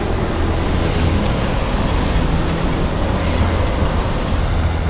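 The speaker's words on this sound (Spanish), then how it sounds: "el sonido del agua que fluye a través de los canales acústicos" Water rushing through stone acoustic channels in a dark underground gallery gives a loud, steady, storm-like roar, broadband and unbroken throughout with no voices.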